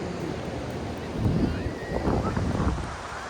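Ocean surf rolls onto Ganpatipule beach on the Konkan coast, a steady wash of breaking waves swelling in bursts, overlaid with gusty wind noise on the microphone.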